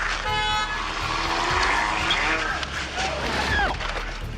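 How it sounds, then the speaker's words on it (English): Car pulling away at high speed during a police incident, engine revving hard with tire squeal and skidding; shouting and talk sit over the roaring, close and loud. "The chap got the car into drive and pulled away. He's flown across the road at high speed."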